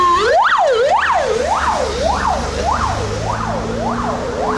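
A wailing ambulance siren goes past outside, loud and sweeping up and down in a steady repeating cycle over the rumble of traffic.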